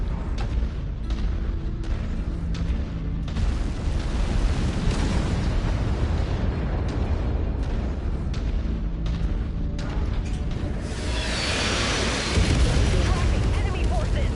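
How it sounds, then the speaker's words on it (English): Incoming artillery bombardment in MechWarrior 5: Mercenaries, a steady rumble of explosions and booming impacts with a bright blast near the end and voices talking underneath. "You've been spotted. Expect incoming bombardments."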